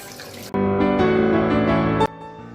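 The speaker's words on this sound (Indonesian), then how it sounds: "lalu siram dengan air dingin agar kedelainya dingin" Cold water pours from a tap over drained boiled soybeans for tempeh, a loud, steady splashing stream that starts abruptly, runs about a second and a half, then cuts off, with no talk.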